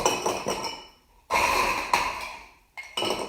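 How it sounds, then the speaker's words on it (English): Ice cubes drop into a cocktail stirring glass in a home kitchen, making two or three short bursts of clattering, clinking rattles with brief quiet gaps between them. "now I'm going to add some ice to my stirring glass"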